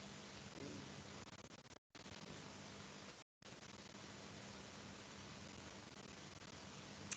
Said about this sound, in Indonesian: Wah, hujan tempat saya.